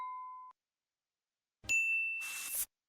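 A notification bell dings once as a clean, short ringing tone, then after a pause a brighter bell-like chime rings out, mixed with a brief burst of noisy clatter.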